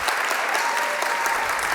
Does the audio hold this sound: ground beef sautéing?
no